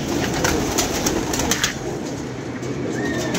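A pigeon coos softly in a loft, low murmuring calls repeating over a faint background hiss, with no one speaking.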